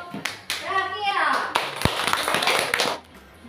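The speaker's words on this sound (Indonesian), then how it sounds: "tepuk tangan untuk kelompok trakea" Classroom applause for a student group: a burst of scattered clapping from children lasting a few seconds, mixed with kids' chatter and a voice, fading out at the end.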